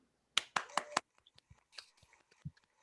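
A golf clap: four quick, light handclaps, close and crisp, followed by soft, quiet talk.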